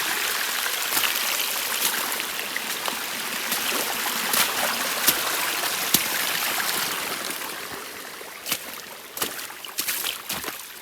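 A stream runs over an Appalachian hiking trail, steady rushing and trickling water close by with scattered splashes and knocks, continuous for the full length with no talking.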